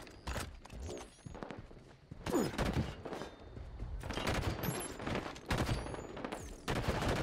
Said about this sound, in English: Shooting my teammate because I'm trying to shoot the goddamn enemy